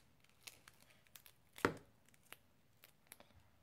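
A pair of scissors snips through thick paper while a mini Christmas photo album is being made, giving one sharp, loud cut among several faint clicks and rustles in an otherwise quiet room.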